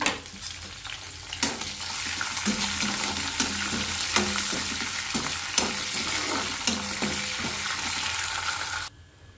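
Curry leaves and green chillies fry in hot oil in a pan, a steady sizzle broken by regular clinks and scrapes of a stirring spoon, close and alone before the sizzle drops off at the end.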